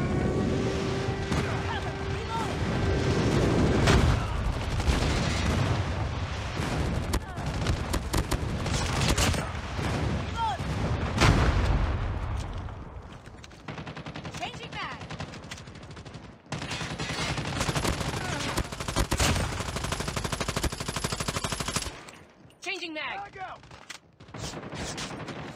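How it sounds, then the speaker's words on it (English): Call of Duty Mobile team deathmatch on the Crash map, with dense rattling gunfire, bursts of automatic fire and booming airstrike explosions, loud and continuous and thinning out toward the end. "Friendly airstrike incoming."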